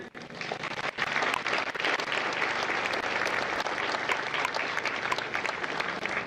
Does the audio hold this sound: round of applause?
yes